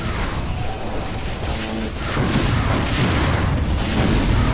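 Heavy turret fire in the space combat game Wing Commander: Prophecy, a dense, continuous roar of booming explosions that swells louder midway and stays loud.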